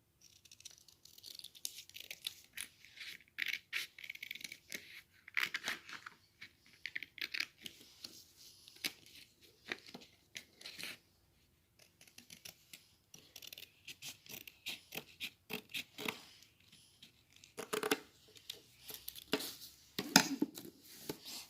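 Scissors cut paper for a Diwali paper lantern, giving long stretches of close, dry snipping and scratchy crackling in uneven bursts with brief quiet gaps, with no voices.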